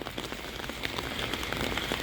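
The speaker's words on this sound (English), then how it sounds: "As you can see, it's raining." Steady spring rain patters on surfaces outdoors during a walk, a dense continuous hiss of drops with scattered sharper taps, moderately loud and unbroken, with no voices.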